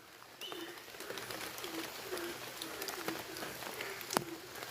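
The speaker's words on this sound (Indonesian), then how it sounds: "Suara burung." A bird calls repeatedly at a moderate distance, short coo-like notes recurring over steady background noise at a reportedly haunted house at night, with a generator running nearby.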